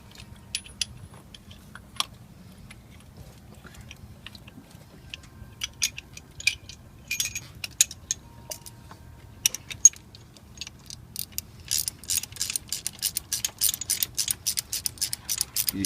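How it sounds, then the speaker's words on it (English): On a 2005 Ford F-150 5.4, an extraction tool crushes the porcelain of a broken spark plug. It produces faint scattered clicks and ratcheting ticks that grow into a denser, steady metallic crunching near the end, close up with no talking. "you're crushing the porcelain is what you're doing right now."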